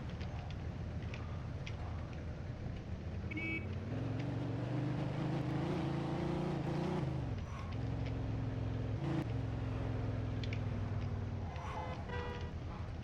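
An Audi RS6 car drives in the video game Mafia II, with a steady engine drone that rises briefly as it revs and accelerates. The engine runs continuously at a moderate, somewhat muffled level, with faint game noises layered over it.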